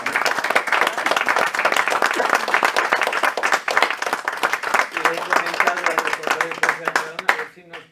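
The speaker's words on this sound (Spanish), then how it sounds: "yo le daría un aplauso por..." Audience applause at a talk or debate event, a dense steady burst of many hands clapping that fills the clip loudly, with some murmuring and a faint melody entering near the end as the clapping fades.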